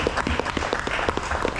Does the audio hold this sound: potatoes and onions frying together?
no